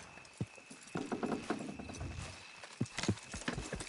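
Horse hooves clip-clop in Red Dead Redemption 2, an irregular run of hoof strikes at moderate distance over a soft outdoor background.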